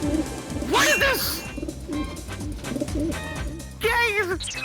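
Pigeons coo in soft, throaty bursts, several calls overlapping close by, with a voice talking over them.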